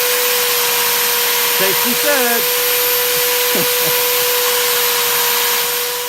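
A sander clamped in a vice runs with a steady, close motor whine and hum throughout, while someone speaks briefly over it.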